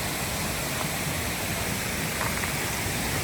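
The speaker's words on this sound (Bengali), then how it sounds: "ঝর্ণার শব্দ একদম পাগল করে দিচ্ছে আমাকে।" The Thankuain waterfall on a hill trail roars in a dense, unbroken rush of falling water, loud and near, with no voices.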